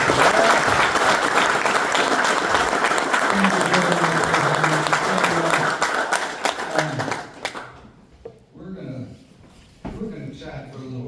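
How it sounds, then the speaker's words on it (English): An audience at a Stern pinball seminar in Rotterdam breaks into warm applause, dense clapping for several seconds that tapers off, with a voice speaking over it and then alone. "Give them a warm applause."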